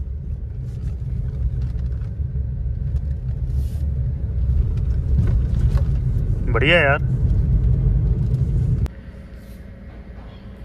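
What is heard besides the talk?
Maruti Ignis car driving over a rough, bumpy road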